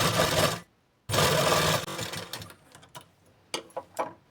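A sewing machine stitches a blouse sleeve lining onto the main fabric in two steady whirring runs, then slows into a few short clicking bursts.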